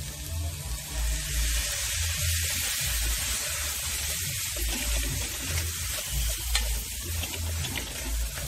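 Soy sauce going into jerk chicken fried rice in a hot pan, a continuous loud sizzle with stirring and scraping, plus a low rumble underneath, heard close and steady with no talking.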